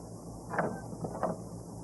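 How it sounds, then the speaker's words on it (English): A key scrapes and clicks in the lock of a back door as it opens in a radio drama, two distinct metallic ratcheting scrapes about half a second apart, quiet and close with no talking. "the scraping noise Floyd makes as he opens the back door with the key from his pocket"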